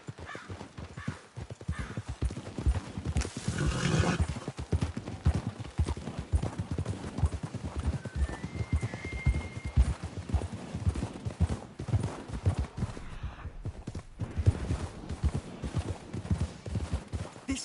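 Horses clip-clop steadily through a Red Dead Redemption 2 ride, hooves close and continuous under game ambience, with a brief whinny and faint distant gunfire in the mix.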